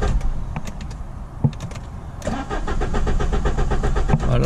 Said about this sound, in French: Voilà, là, ça ne démarre pas.